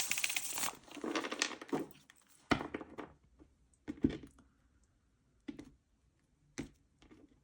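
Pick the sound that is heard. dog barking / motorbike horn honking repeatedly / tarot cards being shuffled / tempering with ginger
tarot cards being shuffled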